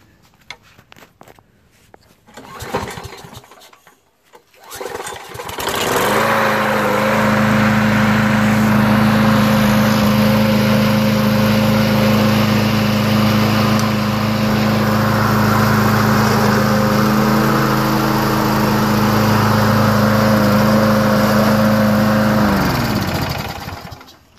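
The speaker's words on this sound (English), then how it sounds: "Engine runs great." A Craftsman 6.25HP self-propelled big-wheel mulcher lawn mower starts after a few seconds and runs loud and steady close by for about twenty seconds, with a constant droning engine note before cutting off.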